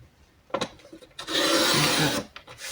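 Scissors or a blade trim excess paper from a handmade Christmas gift-package scrapbook card, a few short snips followed by a longer rasping cut of about a second, close and fairly loud with no voices.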